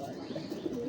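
Male Indian Sharjanpuri pigeon cooing close by, a soft, low, throaty coo over a brief moment.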